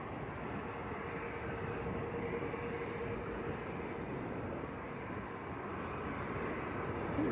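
An Aurigny ATR turboprop from Guernsey at Manchester Airport gives a steady, broadband engine roar at a moderate distance, constant throughout with no talk.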